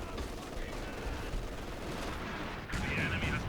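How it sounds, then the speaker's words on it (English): Dense, continuous rumble of artillery and gunfire fills a battlefield in a real-time strategy game, with layered booms and crackling shots sustained throughout and a brighter burst near the end. "Artillery barrage to push the enemy off the hill."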